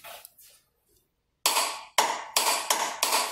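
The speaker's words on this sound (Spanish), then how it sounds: "Entonces vamos a torquear. Entonces aquí le pongo la llave" A torque wrench tightens a bolt on an electric power-assisted steering rack to 81 ft-lb. Faint ratcheting leads into a quick run of five or six sharp, loud metallic clicks close by.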